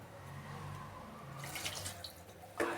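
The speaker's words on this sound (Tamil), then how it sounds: "அப்புறமா கொஞ்சம் தண்ணி ஊற்றணும்." Water is poured into a cooking pot, a faint, close trickle and splash that builds briefly near the end.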